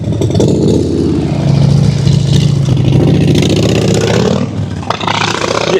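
A motorcycle engine in Geelong, Australia, revs loud and close with a rough, throbbing tone that rises and holds, then eases as the bike pulls away.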